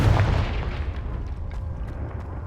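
A Confringo blasting spell explodes in Hogwarts Legacy, a loud booming burst at the start that rolls off into a rumbling, crackling decay.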